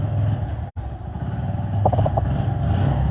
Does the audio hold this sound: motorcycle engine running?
yes